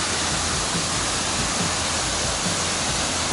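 A waterfall in Hokkaido roars as a loud, dense, steady rush of falling water, close by and unbroken, with no voices.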